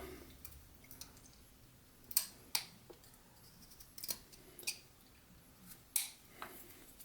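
A knife shaves wood while a small figure is whittled. Sharp, crisp cuts and snaps come at irregular intervals over quiet background, with no talking.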